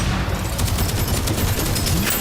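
Rapid HK-44 Warrior gunfire with combustion explosions in the shooter game DeadZone: Rogue, a loud, dense stream of shots that runs continuously throughout, with no voices over it.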